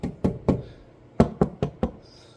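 Knuckles knock on a sound-deadened panel of a General XP side-by-side, giving dull, muted thuds: three knocks, a pause, then four more, close and alone.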